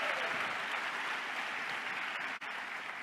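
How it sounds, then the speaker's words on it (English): Audience at a company event applauds steadily, a broad wash of clapping from a crowded room at moderate level throughout. "Give them a round of applause for being a part of this great company."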